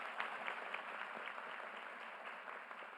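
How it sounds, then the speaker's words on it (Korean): An audience at a Jeju town hall meeting applauding, a steady, even patter of many hands clapping, faint and somewhat distant throughout. "더 잘하시라고 박수 한번 부탁드립니다."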